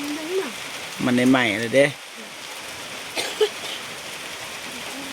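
Steady rain falls as a constant hiss in the background, with a person speaking briefly over it in the middle.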